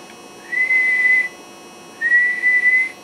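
Two steady single-pitch whistles, each about a second long, are sent into a radio microphone to test a Browning 170 business band linear amplifier, with faint background hum between them.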